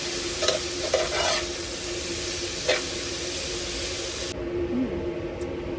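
Three cloves of garlic frying on a hot plate inside a 2023 Flagstaff E-Pro 15TB camper, a steady close sizzle with a few stirring scrapes, cutting off abruptly near the end.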